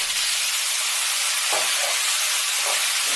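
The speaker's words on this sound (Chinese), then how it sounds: "也放鸡腿爆香一下" Chicken legs frying in a wok, a strong continuous hiss and sizzle filling the whole stretch, with a few brief surges as the pieces are stirred.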